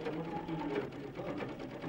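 Sewing machine stitching steadily through a tailoring class where young girls learn cutting and sewing, a continuous close mechanical whir running without pause.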